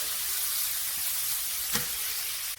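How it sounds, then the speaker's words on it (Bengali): Chopped onion and garlic fry in hot oil in a pan for a fish curry, a dense, even sizzle held close throughout, with one brief scrape of stirring near the end. "পেঁয়াজ রসুনটাকে আমি ভালো করে ভেজে নেব।"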